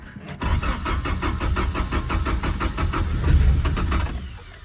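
A 1982 Toyota BJ60 Land Cruiser diesel, on its third engine, cranks with a rapid, even starter rhythm and catches into a loud, close rumble that settles toward idle.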